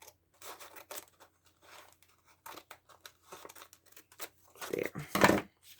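Scissors snip and crinkle through paper while making a handcrafted junk-mail journal, a series of short quiet cuts with paper rustling, ending in a louder burst of crumpling and snipping close by.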